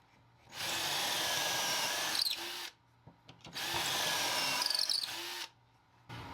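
A power drill whirring loudly into wood in two sustained bursts of a few seconds each, with short pauses and clicks between.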